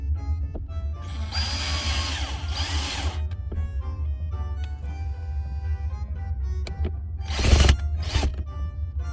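A power drill whirs in several bursts, revving up and straining as it drives a screw with no pilot hole, with a low steady hum underneath.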